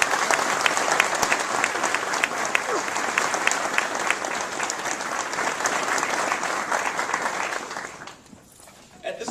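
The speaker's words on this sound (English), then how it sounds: "Let's give them a big round of applause." An audience at a NASA agency awards ceremony gives dense, sustained applause in a large hall, holding steady for several seconds before fading out quickly.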